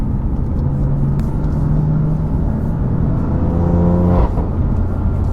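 A BMW F80 M3 in Sport Plus mode pulls hard in third gear, its engine note climbing in a steady, loud rising drone heard from inside the cabin, with no talking over it.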